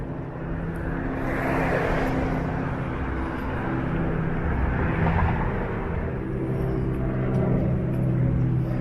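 A VW microbus rumbles past on a city street, a broad low engine and road noise swelling and fading at moderate distance, with faint traffic around.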